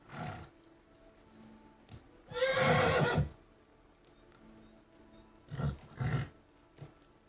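A horse in the video game Kingdom Come: Deliverance neighs loudly in a long whinny, followed by shorter snorts and whinnies, with quiet gaps between them.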